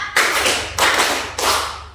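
A group claps in three loud bursts, each a brief flurry of hands, with short pauses between, as a classroom ice-breaker.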